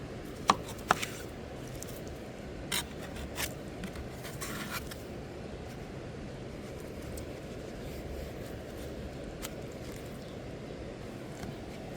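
Cantaloupe melons are cut up and seeded by hand, giving scattered sharp knife clicks and soft scraping taps over a faint low background hum, fairly quiet, with no talking.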